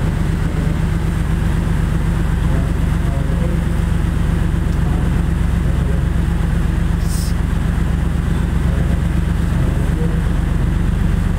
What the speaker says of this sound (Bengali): আমাদের জাহাজ কিন্তু এখন পদ্মা সেতু ক্রস করে ফেলছে